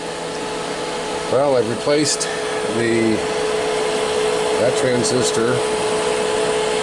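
Cooling fan blowing steadily on an FM20H RF preamp under repair, a loud continuous broadband whoosh with a faint hum, with someone talking over it at intervals.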